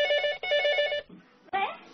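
A telephone at a city police emergency call center rings in two loud electronic bursts, then a short pause before another tone begins, clear and close with no voices.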